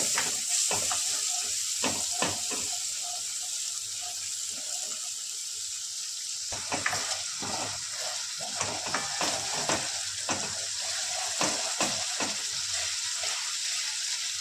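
Masala for methi papad curry sizzles steadily in hot oil, a constant bright hiss broken by repeated scraping stirs of a spoon against the pan, with no talking.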